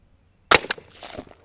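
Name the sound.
gunshot firing Aguila Colibri 22LR round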